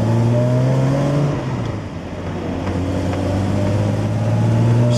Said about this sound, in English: Just so all you guys can hear this shifting through the gears, all right?